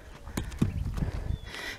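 Horse hooves clip-clop at an uneven walking pace on firm ground nearby, a run of fairly loud, distinct knocks with a thin higher sound near the end.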